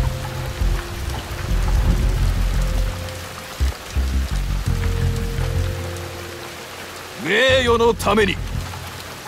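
Rain falls in a constant, hissing downpour with deep rumbling underneath in Shadow Tactics: Blades of the Shogun. A character speaks briefly near the end over the weather.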